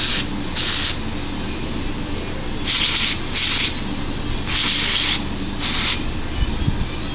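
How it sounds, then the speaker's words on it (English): Carburetor cleaner sprayed from an aerosol can into the jets of a Honda 110 three-wheeler carburetor, heard as six short, loud hissing bursts in an uneven rhythm over a steady background rumble. "Take your can of spray and blow out the stuff."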